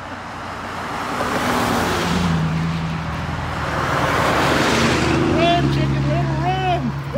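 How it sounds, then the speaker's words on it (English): Cars passing by on a road, engine and tire noise swelling and fading as vehicles go by in both directions, with people talking nearby. "All these cars come from both sides now."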